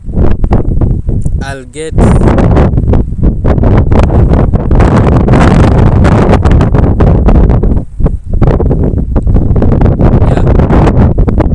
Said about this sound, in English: I wanted the wind to settle.